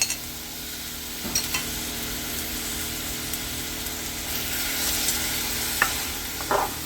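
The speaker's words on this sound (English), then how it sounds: "Just mix it up real well." Chopped hot Italian sausage mixture for baked spaghetti is stirred in a pan, giving a continuous soft scraping and sizzling texture with a few sharper clicks of the utensil against the pan.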